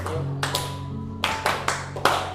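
Students in a vocational high school classroom clap in short, scattered bursts, about six uneven claps spread over two seconds, with a faint voice underneath.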